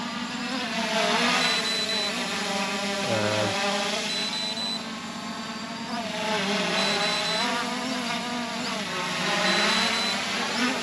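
A Ruko F11 GIM 2 quadcopter drone buzzes in flight outdoors, a steady high-pitched propeller whine with harmonics that rise and fall as the motors change speed, heard close and continuous.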